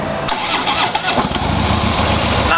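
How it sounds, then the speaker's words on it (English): A Harley-Davidson Street Glide Special FLHXS motorcycle with stock factory exhaust cranks and fires up, a loud close starter whir catching into a rumbling, uneven idle that carries on steadily. "See if I can get this one started,"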